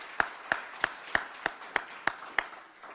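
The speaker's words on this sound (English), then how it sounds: "Round of applause." About eight crisp hand claps at a steady, quick rhythm, close and distinct rather than a dense crowd wash, from an audience welcoming a guest at a leadership event.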